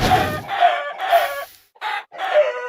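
Minecraft chickens clucking in repeated short bursts, close and fairly loud, with brief pauses between calls and no talking.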